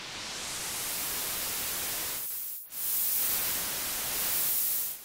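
A synthesizer noise generator sweeps its hiss from bright white toward darker pink noise, loud and continuous, with a brief near-silent dip partway through before the noise returns.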